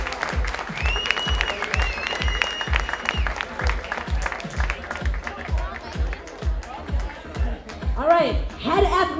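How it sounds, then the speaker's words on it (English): A dinner audience at a Milwaukee Wave soccer club 30th anniversary celebration applauds, with a steady beat of rhythmic clapping plus cheers and whistles. Voices shout over it, and the sound swells toward the end. "let's give a big round of applause to our goalkeeper coach, Mark Litton."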